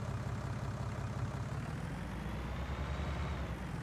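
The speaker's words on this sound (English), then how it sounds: "I'm gonna back the tractor in." A tractor reverses in Farming Simulator 19, its heavy diesel engine droning steadily at low revs, a constant close rumble with a faint rising whine and no talking.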